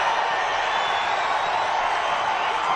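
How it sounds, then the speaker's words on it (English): A large crowd at a political rally cheers and applauds in a dense, steady roar of voices and clapping that holds at a loud, even level without breaks. "And listen to them cheer"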